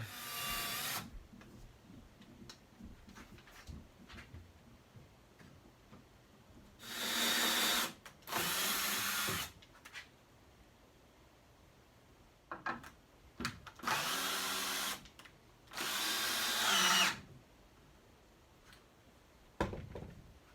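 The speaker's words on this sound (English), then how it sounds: "I drill pilot holes" A power drill drilling pilot holes in wood of a picnic table whirs in several short bursts, a few seconds each, with quiet pauses and small knocks in between.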